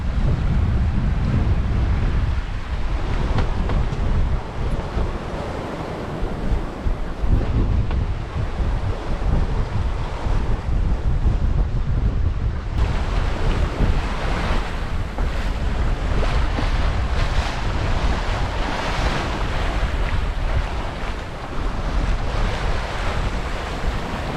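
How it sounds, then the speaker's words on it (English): Constant wind and breaking waves surround a sailboat under way in about twelve knots of breeze, with heavy wind buffeting on the microphone and rushing water filling the whole stretch, loud and close, without talk. "The wind has dropped, we've got about 12 knots of wind."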